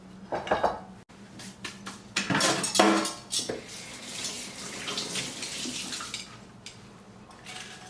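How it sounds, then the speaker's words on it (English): Lettuce for a vegan Caesar salad is tossed with dressing in a bowl, with clattering utensils and bowl knocks in bursts, then a softer rustle, close and fairly quiet, with no talking. "Now I just sort of rotate that in and I let the lettuce pick up the dressing."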